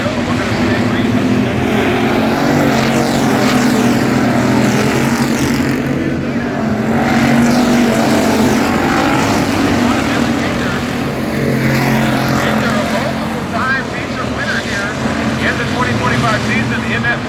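Stock cars in a factory stock feature race circle an oval track late in the race, a steady loud roar of engines sustained throughout, with a commentator's voice over the top.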